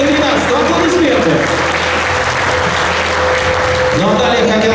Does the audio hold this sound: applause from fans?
yes